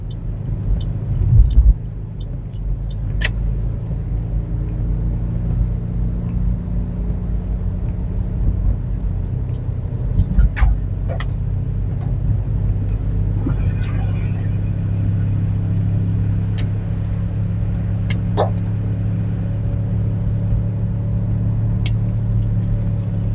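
A car heading onto a freeway in Honolulu, Oahu, Hawaii, with a loud, steady engine and road rumble that builds a little and then holds, plus scattered light knocks and clicks from inside the cabin.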